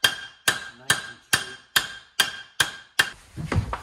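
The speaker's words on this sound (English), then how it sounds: "So we'll give that a little bit of dress up on the anvil here." A bent chain guard from a 1937 New Imperial motorcycle, crumpled by a thrown chain, is hammered straight on an anvil: eight sharp, ringing metallic blows come about every half second, close and crisp, and a shuffling clatter follows at the end.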